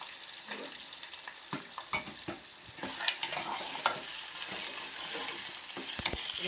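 Fish curry being stirred in a pan, with a steady scraping, clinking stir and a soft sizzle beneath, close and moderately loud, with a few sharper utensil knocks and no talking.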